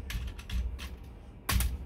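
A few quick computer keyboard keystrokes are typed in a short burst as a command is entered in AutoCAD, ending with one firmer key press. The clicks are close and crisp over faint room hiss.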